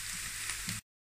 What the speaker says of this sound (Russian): В сковороде обжариваем чеснок пару секунд и добавляем лук.